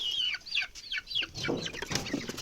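Leghorn hens cluck and squawk close by in short, repeated bursts, several birds overlapping in a busy, chattering flurry.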